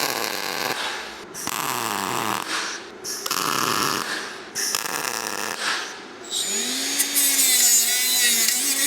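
Tack welding a steel chip tray lip with argon shielding gas, heard as several loud crackling, buzzing bursts of a few seconds each, separated by short pauses, with a higher whine near the end.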